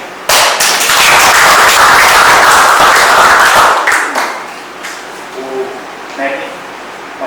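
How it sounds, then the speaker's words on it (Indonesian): A crowd bursts into loud, close applause for students' presentations at a school event, clapping strongly for about four seconds before it trails off into scattered claps and faint voices. "Tepuk tangan buat kalian yang sudah"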